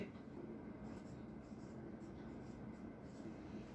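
Pen writing a statement by hand during a Hindi maths lesson on quadratic equations, a soft continuous scratching under a steady low rumble, with no clear speech over it.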